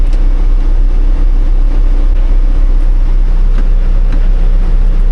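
A worn grain truck pulling a trailer with a pup rumbles and shakes down the road, a loud, constant low drone with steady rattling throughout and no voices.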